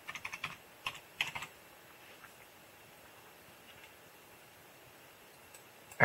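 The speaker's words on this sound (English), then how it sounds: "start typing folder" Quick bursts of keystrokes on a computer keyboard while working in Windows 7, a few clustered clicks near the start, then near silence with a sharp tap at the end.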